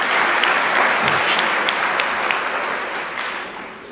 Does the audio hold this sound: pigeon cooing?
no